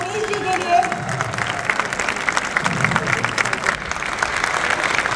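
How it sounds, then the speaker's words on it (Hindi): Audience applause at a talk on Ayurveda and naturopathy, a dense burst of clapping with a voice briefly audible over it at the start. "तो जोरदार तालियां हो जाए आचार्य मनीष जी के लिए"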